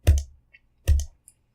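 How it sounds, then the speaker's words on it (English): Two crisp computer mouse clicks about a second apart, close and dry, each with a faint small tick following, on a PC being set up with PuTTY and git. "So right click on it and hit Cut."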